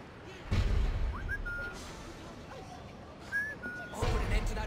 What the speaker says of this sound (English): I heard a whistle. Something only humans can make.